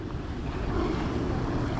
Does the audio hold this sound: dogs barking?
no